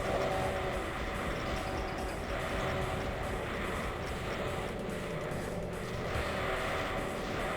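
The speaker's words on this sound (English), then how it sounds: "And then you stop the train" A video game train rumbles along at a steady pace, a dense rolling clatter with a faint rhythmic pulse beneath it, held at moderate loudness with no voices.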